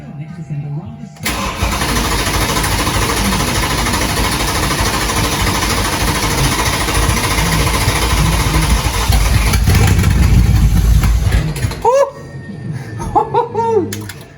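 A twin-turbo E63 AMG engine fitted in a 1969 Mustang cranks over with a loud, sustained whirring churn for about ten seconds, rising near the end before it stops. Excited voices and laughter follow.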